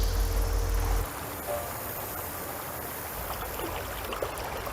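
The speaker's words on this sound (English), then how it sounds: "I like moving water." Steady broadband rush of flowing river water, a continuous white-noise wash, louder low rumble in the first second then an even, moderate flow to the end with no voices.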